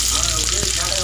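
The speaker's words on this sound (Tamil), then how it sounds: "கடுகு நல்லா பொரிஞ்சோடனே" Mustard seeds spluttering in hot oil during a chicken fry, a dense continuous sizzle with sharp crackling pops, close and loud.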